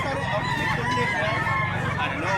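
A rooster crows nearby in a rural Cebu setting, the call running over steady background noise.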